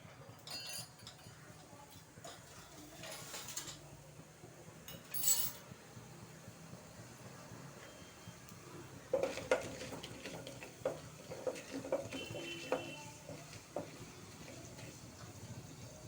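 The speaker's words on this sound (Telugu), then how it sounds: "నేను ఒక్కసారి పోపు పెట్టేసి చేస్తున్నాను" Mustard seeds, urad dal and cumin tempering in hot oil in a home kitchen, a soft continuous sizzle with occasional stirring clinks of a spoon against the pan, growing busier and more clattery toward the end.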